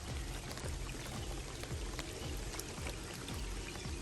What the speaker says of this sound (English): we got a little passing rain coming down here